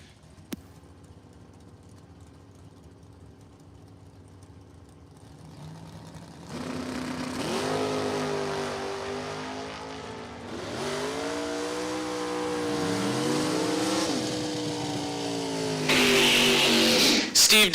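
Drag racing at Numidia Dragway, with a first-generation Camaro on the left lane: race engines rev and rise in pitch as the cars launch and pull away, loud and sustained, growing louder toward the end.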